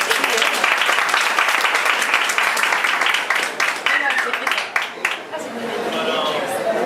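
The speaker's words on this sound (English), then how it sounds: "how about a big round of applause?" An audience at a film festival filmmakers' panel breaks into loud applause with crowd chatter mixed in, the clapping fading after a few seconds into a murmuring room with a voice speaking.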